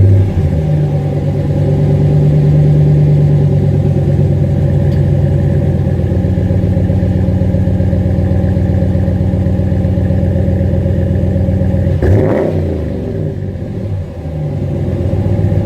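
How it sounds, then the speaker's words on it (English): A car engine with a welded Flowmaster exhaust runs with a deep, loud, steady rumble, then gives a brief rev near the end before settling back. "it's got a little of that Flowmaster rumble there"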